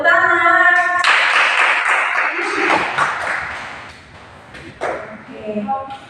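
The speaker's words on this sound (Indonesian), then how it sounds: "betul sekali, tepuk tangan" A class of fourth-grade pupils claps together in a classroom, a burst of clapping that starts after a short tone and fades out over a few seconds, with children's voices mixed in.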